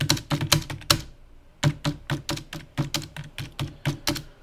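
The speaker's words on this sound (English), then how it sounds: "the microphone's on near the keyboard, so it might sound like thunder" Keystrokes on a computer keyboard with the microphone placed right beside it, a quick burst of loud, close clacks, a brief pause, then a steady run of evenly spaced taps.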